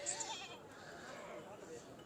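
A goat bleats at a busy livestock market, wavering calls heard amid background chatter and crowd noise, moderately close.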